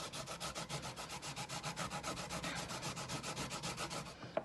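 Vegetables for veggie tater tots scraped against a grater in a quick, steady run of quiet rasping strokes, close and alone.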